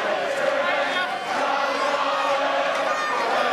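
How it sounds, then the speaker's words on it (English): Ulster rugby supporters in the stands during a match against Treviso make a steady, distant wash of crowd noise, with rising singing and chanting that holds at an even level throughout. "encouraged the Ulster crowd to start doing a bit of singing"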